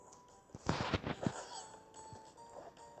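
Bomb explosions in a video game burst in a quick cluster of sharp cracking blasts, then fade into a lower rumble and scattered distant pops.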